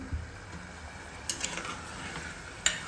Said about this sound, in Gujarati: હવે સારી રીતે તેને હલાવીશું.